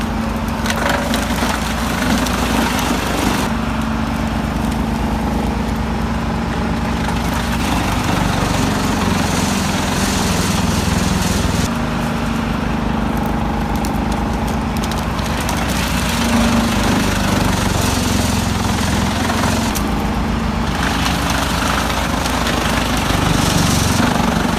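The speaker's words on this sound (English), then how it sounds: "Brooks 1006 ST with chip tube sets a new standard in precision chipping" Brooks 1006 ST wood chipper with chip tube running steadily at close range, a continuous loud mechanical drone with grinding and splintering texture that holds throughout without pause.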